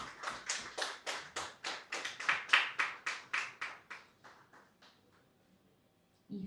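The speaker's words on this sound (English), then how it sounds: "Please give him a round of applause." At an adolescents' conference in Ghana, a group claps in slow, even unison, about a dozen strong rhythmic claps that fade away toward the end into near silence.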